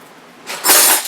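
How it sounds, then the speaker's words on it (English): A utensil scrapes and clinks through garlic salt seasoning in a bowl, a short, fairly close burst of mixing that rises in the second half and then fades. "I'm just going to mix it all around so it's all mixed in"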